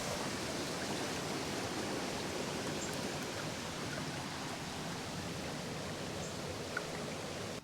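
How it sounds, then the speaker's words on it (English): A small farm creek fed by a full pond's overflow pipe flows steadily, a continuous even rush of water heard alone and fairly close throughout. "our little creek here is flowing pretty good."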